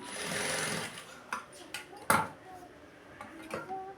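A sewing machine stitches small pieces of yellow blouse cloth, giving a close burst of whirring followed by a few short clicks and knocks of handling, with someone talking over it.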